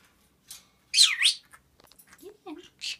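Pet bird at bath time giving a few sharp, bright chirps and short whistled calls close by, separated by brief quiet gaps, with a little soft voice sound.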